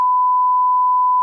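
A censor beep plays as a single steady, pure electronic tone, loud and close, lasting just over a second with no other sound.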